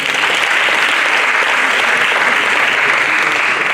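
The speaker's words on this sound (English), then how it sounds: "And can you in return clap for the rest as well?" Many hands clap together at an award ceremony, producing a sustained, uniform burst of audience applause, loud and close, with no speech over it.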